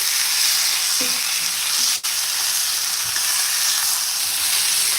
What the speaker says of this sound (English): We're just browning them, browning each side